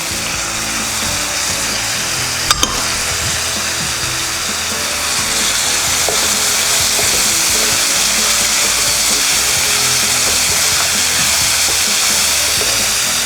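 Carrots and other vegetables fry in hot oil for a vegetable kurma, giving a dense, steady sizzling hiss that holds close and loud with a few small pops.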